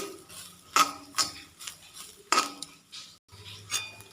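Grated coconut roasting in ghee in a pan, stirred with a metal spoon: irregular clinks and scrapes against the pan, close and fairly quiet, with no talking.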